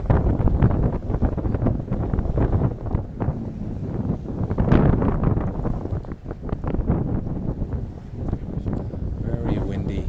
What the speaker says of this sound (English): Very windy evening.